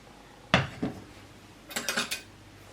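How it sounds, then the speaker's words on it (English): Vegetable soup returned to a pan, heard as a few distinct clanks and knocks of a pot and utensil, one sharp hit followed by a quick cluster of smaller clatters, close and fairly quiet, no speech. "I'm going to return it to the pan and I'll just have a taste"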